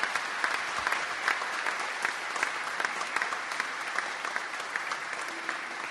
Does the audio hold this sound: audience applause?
yes